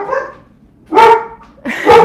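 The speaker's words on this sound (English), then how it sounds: "What's a broadcast without my dogs going nuts?" Dogs bark at someone at the door, two loud, close barks about a second apart after a faint whimper.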